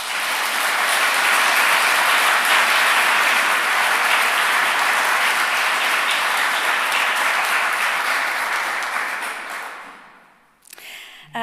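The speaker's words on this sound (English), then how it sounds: "I'd like to give a big round of applause to all of them for their work" An audience at a university teaching and learning conference award ceremony applauds the nominees, a full, sustained round of clapping that swells, holds steady for several seconds, then tapers off into a brief noise at the end.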